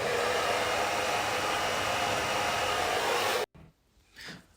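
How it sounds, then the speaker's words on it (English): A hair dryer blows loudly and steadily as a broadband roar for about three and a half seconds, then cuts off abruptly, leaving faint quiet sounds. "I use this one, it's a normal hair dryer. So put it on hot, heat it"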